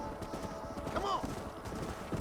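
Horse hooves clopping with a rising, wavering whinny from a horse in the Red Dead Redemption video game, over a steady bed of ambient outdoor noise and faint voices.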